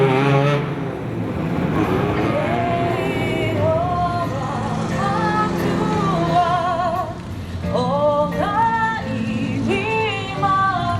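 Race cars of the Waimate 50 street race lined up on the starting grid, several engines revving and blipping with rising and falling pitch, loud and close throughout.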